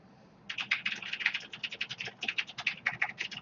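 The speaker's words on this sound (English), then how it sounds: "You can probably already hear my little sister typing back there." Fast typing on a computer keyboard clatters in a rapid, continuous run of crisp key clicks, starting after a brief pause and heard fairly clearly without talk.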